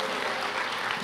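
Brief burst of dense applause from a church audience, many hands clapping steadily and fairly loud throughout.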